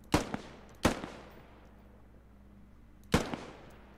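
Three sharp, distant gunshots ring out in the video game Squad, two close together and a third after a pause, each with a short echoing tail over quiet ambience.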